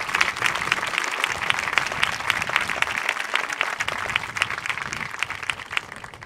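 Parents Day audience applauding the band members, a sustained burst of many hands clapping, fairly loud and fluctuating slightly over several seconds.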